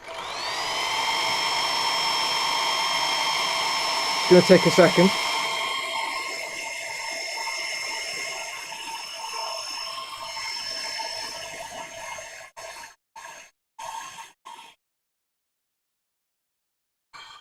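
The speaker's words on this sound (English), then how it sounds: "I'm going to give it a blast." A hairdryer blasts hot air onto a plastic Warhammer Baneblade model kit with a steady, whining drone and a brief rattle early on. It then cuts out and returns in a few short bursts before falling silent, while a person talks.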